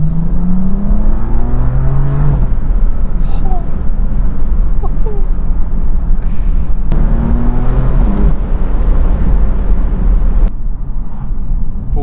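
A BMW 320d diesel hums with a hollow, can-like resonance while driving, a steady low rumble from inside the cabin with sweeping tones rising and falling.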